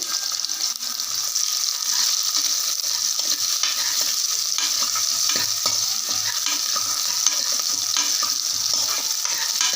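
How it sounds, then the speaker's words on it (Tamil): Small shallots fry in oil for a country-chicken curry, a loud, dense, unbroken sizzle heard up close with faint stirring underneath and no talking. "நல்லா எண்ணெயில் வதங்கட்டும்"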